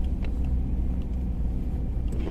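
A car drives along a snowy road in Konya on newly fitted tires, giving a steady, continuous low rumble of engine and road noise with no talk.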